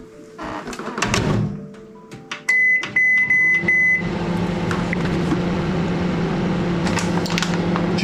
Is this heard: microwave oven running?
yes